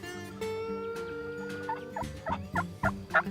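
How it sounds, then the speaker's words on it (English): Several wild Rio Grande turkeys gobble in Texas, loud rattling calls arriving one after another near the end, over a steady tonal call and low background hum. "Matt starts calling and they start gobbling"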